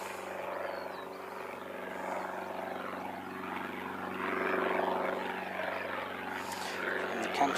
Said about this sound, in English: Another one of the trainer props.